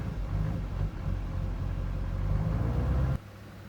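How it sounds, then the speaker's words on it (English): Square body truck with a weak battery, its engine cranking steadily and sluggishly at close range, a continuous low churning that cuts off abruptly near the end. "Kind of cranking a little bit"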